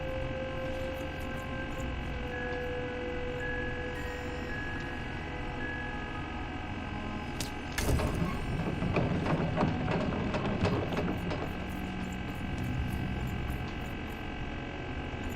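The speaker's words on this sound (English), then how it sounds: "So that humming sound you hear is the movement of the light." A moving light in the video game Lost in Random gives off a steady low electrical hum, constant throughout, joined midway by a burst of clattering mechanical noise.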